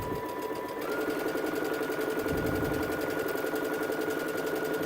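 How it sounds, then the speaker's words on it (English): A sewing machine runs steadily while stitching a backpack zipper panel through tape and fabric, with a continuous close mechanical whir and a brief pitch shift near the start. "We're going to sew."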